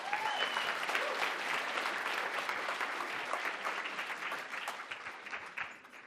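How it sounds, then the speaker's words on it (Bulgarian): An audience at a QA lightning-talks event applauds a speaker taking the stage, a moderately distant round of clapping that thins and tapers off toward the end. "Вашите аплодисменти за Александър Тодоров."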